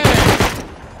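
An automated turret in the survival game Rust fires a loud, rapid burst of gunshots at close range, its rattling volley cutting off abruptly after about half a second.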